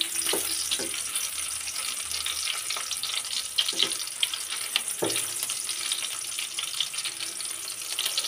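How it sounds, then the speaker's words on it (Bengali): Chopped onions frying in oil in a wok give a dense, bright sizzle running throughout, with a few soft clanks and scrapes early on, close and steady, with no talking. "কড়াইতে তেলটাও দিয়ে দিলাম। দিয়ে এখন কিছু কাটা পেঁয়াজ দিয়ে নিলাম।"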